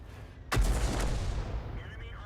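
A single tank cannon shot from an SU-8 in World of Tanks, a sharp loud boom followed by a long rumbling decay that fades over two seconds.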